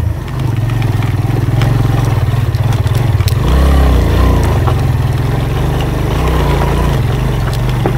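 A motorcycle engine labours steadily in low gear up a steep, rough mountain track toward Fairy Meadows near Nanga Parbat, a constant loud drone with a brief surge of revving partway through and no talk.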